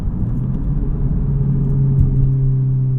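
Exhaust note of a 2023 Honda Civic Type R during downshifts, a steady loud engine drone with a sustained tonal hum and a slight rise near the end, close and without talk.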